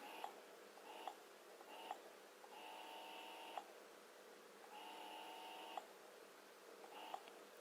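Brustra Miracle Go breast pump running quietly, a soft steady motor whir in long pulses broken by small regular clicks, faint and close, with no talk.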